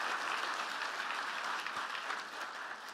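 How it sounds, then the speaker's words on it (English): Audience applause at a Vanderbilt Athletics Hall of Fame ceremony, a full, continuous roar of clapping that stays strong and even, tapering slightly at the end, with no voices over it. "if we could give him a round of applause, because he deserves that."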